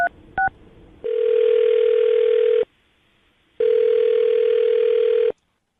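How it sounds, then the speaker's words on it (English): A telephone ringback tone sounds twice in long, steady beeps with a pause between them, after a couple of short dialing blips at the start, clear and close with no talking. "I'm going to dial her phone number right now"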